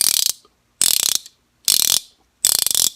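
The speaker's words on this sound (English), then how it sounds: "You can hear on that, nice ratcheting wrench to it." A flex-head ratcheting mechanic's wrench clicks in four quick bursts, each a rapid run of sharp metallic ticks separated by short silences.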